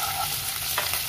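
Chopped onion and green chilli frying with garlic in hot oil, a close, even sizzle with scraping stirs and a light utensil tap.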